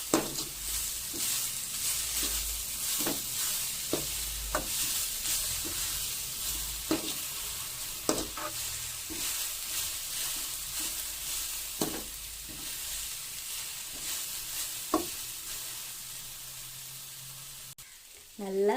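A spatula scrapes and stirs a papaya stir-fry with salt in a pan, sharp scraping strokes recurring every second or two over a steady soft sizzle, close and moderately quiet.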